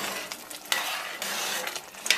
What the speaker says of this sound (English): I'm going to give that a quick stir just to move everything around.